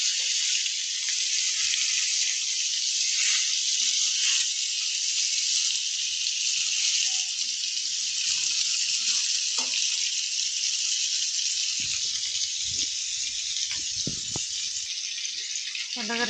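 Fish frying in a pan gives a loud, steady hiss of sizzling oil throughout, with faint clinks and low handling knocks near the end.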